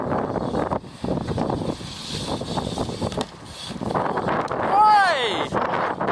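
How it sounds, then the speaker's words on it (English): Wind gusts buffet the microphone at an outdoor skate park, a loud continuous low rumble running under people talking and calling out throughout. "It's very windy. Sorry about the wind."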